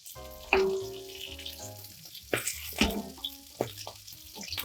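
Salmon fish cakes sizzle and crackle in a hot cast iron pan, with steady frying broken by louder bursts as pieces are moved or flipped, alongside clinks of a utensil and no talking.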